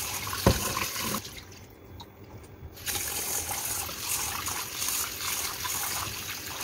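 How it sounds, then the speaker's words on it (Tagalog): Running tap water flows into a sink while glutinous rice is washed for Filipino ginataang monggo, a steady close trickle and splash with a brief quieter gap midway. "Tapos ngayon guys, hugasan natin ang malagkit."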